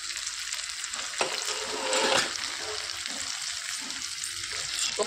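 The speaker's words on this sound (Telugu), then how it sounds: "మొత్తం కలిపేసి మూత పెట్టుకొని ఒక 5 నిమిషాలు ఉడికించుకోవాలండి" Mixed vegetable curry with tomato pieces sizzles and bubbles in a pan, a steady crackling hiss with a few louder stirring scrapes and splashes, close by and fairly loud.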